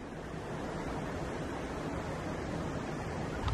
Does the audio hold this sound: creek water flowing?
yes